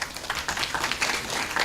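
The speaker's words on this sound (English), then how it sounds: "A round of applause to them." A short, dense burst of audience applause at a school debate event, with many hands clapping together in a steady, fairly loud patter from start to finish.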